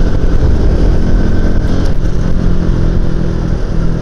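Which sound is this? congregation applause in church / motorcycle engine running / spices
motorcycle engine running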